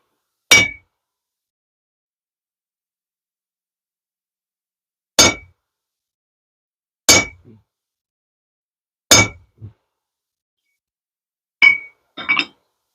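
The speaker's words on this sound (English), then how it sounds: "We'll take our slot punch here, try to center it up best we can." A hammer rings out in sharp metallic clangs as it drives a slot punch through hot forged steel for a hand-made bottle opener. The strikes are single and widely spaced, with a quick double hit near the end, and there is silence between them.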